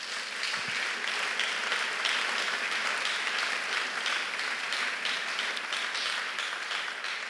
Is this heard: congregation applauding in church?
yes